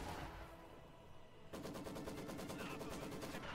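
Machine gun fire in the strategy game Company of Heroes 2, a quiet background rumble that breaks into a sustained rapid burst of evenly spaced rounds, fairly distant and faint.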